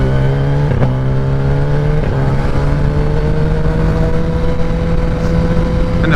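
A 2021 Kawasaki ZX-10 motorcycle with a flashed ECU accelerates hard, its engine note climbing steadily through a gear with brief dips at the shifts, loud and close, with no voices.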